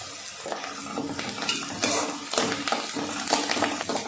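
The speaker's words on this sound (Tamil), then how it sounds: "பச்சை மிளகாய் வெங்காயமும் நல்லா வதங்கட்டும்" Onions and green chillies sautéing in a pan, a close sizzle broken by repeated stirring scrapes and spatula strikes at an uneven rhythm.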